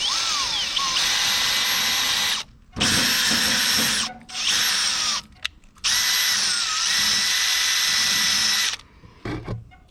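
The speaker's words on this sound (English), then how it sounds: "So I got my drill with a wire brush on this." A power drill fitted with a wire brush whirs loudly in long bursts, scratchy grinding as it cleans metal on a Ford 8N tractor, stopping and restarting several times.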